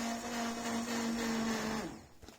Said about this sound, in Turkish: Hemen çorbayı blenderdan geçiyorum.